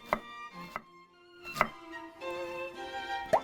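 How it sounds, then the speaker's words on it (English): A knife chops wild ramps on a cutting board, cutting up the white stalks for fried rice. A few sharp, separate chops land about a second apart over a steady tonal background. "we're gonna treat them kind of like a scallion, chopping up the whites and separating them from the leafy green part"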